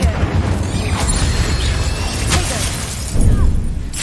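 Incendio, a fire spell cast in the game Hogwarts Legacy, bursts out as loud, close whooshing crashes and shattering impacts, with a couple of sharp hits and a heavier boom near the end.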